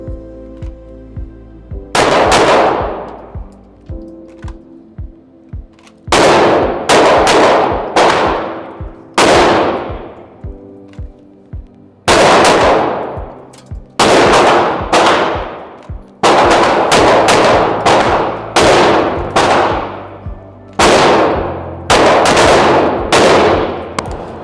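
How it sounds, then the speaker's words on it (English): A handgun is drawn and fired in quick pairs during shooting practice, loud sharp reports ringing off in repeated double shots with short quiet gaps between strings, close and forceful. "Now we're going to draw and we're going to shoot twice."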